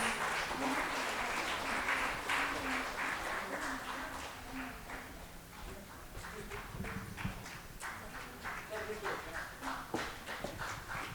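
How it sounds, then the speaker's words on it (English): Audience applause at a food industry launch event in Bengaluru, dense clapping from a hall crowd that swells and thins over several seconds, with voices talking underneath. "Can we please have a big round of applause?"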